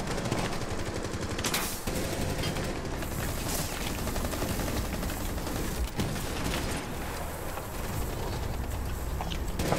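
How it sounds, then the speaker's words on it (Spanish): Gunfire in Rainbow Six Siege, dense bursts of rapid automatic shots and scattered single cracks over a constant noisy game background, steady and loud throughout. "ya, tiros"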